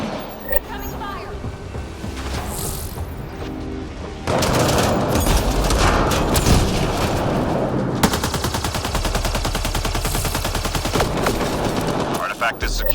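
Rapid video game gunfire in a mission scene, sustained machine-gun bursts and shots that swell louder about four seconds in and keep rattling steadily, with a voice speaking over the action.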